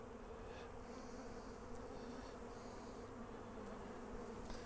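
Honey bees swarm around an open hive during a box rotation, producing a continuous low drone with individual bees buzzing louder as they pass close by, faint and steady throughout, with no voices.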